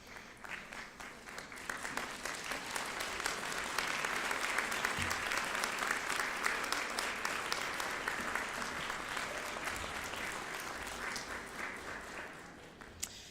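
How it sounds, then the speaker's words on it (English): At a winter doctoral hooding ceremony, an audience stands and applauds the families and friends at the back of the room: an even, moderately distant round of clapping that swells and then tapers off. "stand up and applaud our family and our friends who are in the back of the room"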